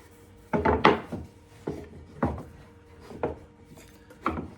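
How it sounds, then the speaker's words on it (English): A hat is set into a crank hat press, producing a handful of muffled wooden knocks and short scraping rubs spaced about a second apart, close and moderately loud. "now I will put it inside of the press, where the tipper is already waiting"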